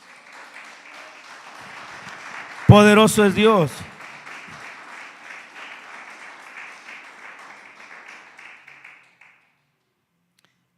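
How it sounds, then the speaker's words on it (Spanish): A church congregation gives sustained clapping for about nine seconds, with a loud voice shouting briefly over the applause partway through before it fades to silence. "Denle ofrenda de palmas al que vive."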